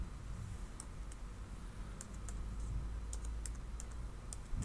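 Typing on a computer keyboard while entering text in Mastercam software, with scattered quiet key clicks picking up into a quicker run, faint and close over a low background hum.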